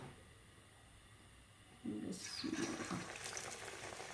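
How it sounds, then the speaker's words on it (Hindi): Spoonfuls of pakora batter dropped into hot oil to fry: a sudden wet hiss and bubbling sizzle starts about two seconds in and keeps going steadily after a quiet start. "ऑयल गर्म हो गया, अब हम पकोड़े डालेंगे इसके अंदर।"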